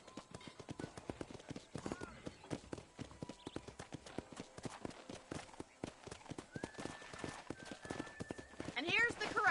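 Horse hooves clip-clop steadily through a Red Dead video game scene, layered with game ambience and a whinny near the end, with speech-like sounds mixed in.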